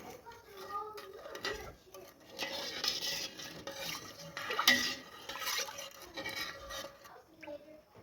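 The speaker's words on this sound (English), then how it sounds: "I'll start stirring until it comes to a boil and the sugar is dissolved" Brown sugar pickling brine being stirred in a pot on a stovetop while it heats toward a boil for refrigerator pickled beets: soft scraping and clinking of a utensil against the pot, uneven and continuous, with some quiet background talk.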